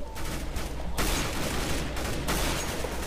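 Gunfire in the Counter-Strike: Global Offensive video game: dense bursts of rapid shots in a fusillade, with quieter gaps between, moderately loud and without speech.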